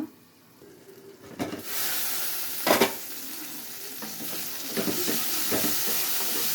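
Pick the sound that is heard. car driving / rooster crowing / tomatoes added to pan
tomatoes added to pan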